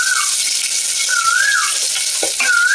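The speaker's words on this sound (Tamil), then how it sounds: "வெங்காயம் நல்லா வதங்கட்டும்." Sliced large onions with red chillies frying in a pan for sambar, a loud, dense continuous sizzle close by, with a faint wavering whistle-like tone running through it and a couple of brief stirring knocks.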